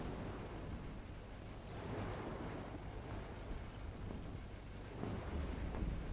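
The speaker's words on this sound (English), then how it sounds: "A storm?" A storm with rolling thunder and crashing ocean waves in the video game Kingdom Hearts, a steady, fairly quiet wash of surf and wind noise with low rumbles swelling throughout, no voices.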